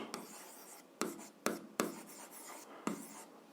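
Close, steady scratching of a pen across paper as an algebra equation is solved by hand, with several crisp accented strokes and short pauses between lines, no voices.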